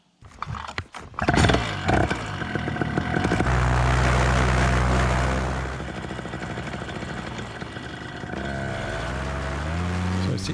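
A paramotor engine is primed and then started, with a few sharp mechanical clatters giving way to a loud, close, steady motor roar that drops slightly in pitch and then holds at a lower drone.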